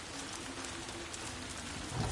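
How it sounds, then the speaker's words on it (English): Steady rain in the video game Ghost of Yotei, a dense continuous hiss of falling drops on surfaces with no voices, holding an even level throughout. "Start to rain again."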